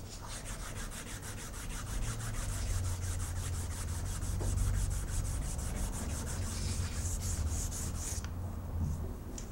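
Sandpaper rubbed by hand against a knife handle, producing a steady, close scratchy rasp with quick back-and-forth strokes that keeps going with no pause, then eases near the end.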